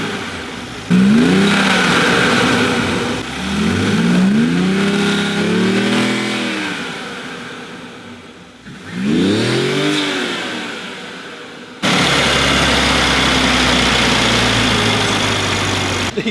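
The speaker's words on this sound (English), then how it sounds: "I'm gonna get you to rev actually so I can hold the camera out there. It's in neutral, okay?" A Toyota Supra engine in neutral revs loudly and close, climbing and falling in several pulls, settling between them, with a rougher steady roar near the end.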